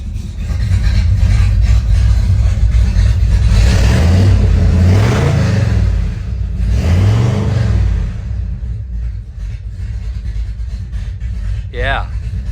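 A 1969 Plymouth Roadrunner engine revs hard through its exhaust, rising and falling in deep surges, then settles into a rumbling idle.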